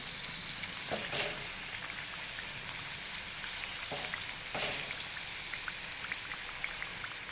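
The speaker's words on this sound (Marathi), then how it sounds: "दुसऱ्या बाजूने पण तळून घेऊया व्यवस्थित पलटून" Puran kadabu, sweet lentil-stuffed dumplings, deep frying in oil over a medium gas flame as they are turned. A steady close crackling sizzle runs throughout, with a couple of brief louder spatters.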